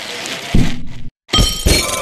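Glass shatters inside the Happy Wheels video game: a sharp breaking burst with a thunk, a brief gap of silence, then a second crash of shattering debris, loud and close.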